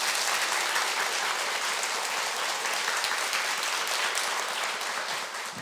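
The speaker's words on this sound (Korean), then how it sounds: "오늘 좋은 강의 해주신 김용달 소장님께 다시 한번 큰 박수 부탁드리겠습니다" A hall audience gives sustained, dense applause after a public lecture on Korea's Provisional Legislative Assembly and Provisional Government at a National Assembly citizen academy, loud and even throughout, fading slightly at the end.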